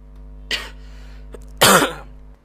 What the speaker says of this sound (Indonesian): Sorry guys agak batuk.